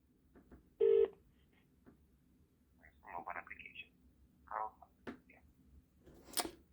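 A short burst of touch-tone dialing beeps calling a Samsung support number, followed by faint clicks and scattered quiet electronic chirps in a hushed background.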